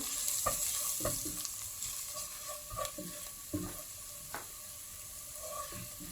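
Whole spices and garam masala fry in oil for egg biryani, a steady hiss of sizzling broken by occasional scrapes of a stirring spoon, close and even throughout, with no voices.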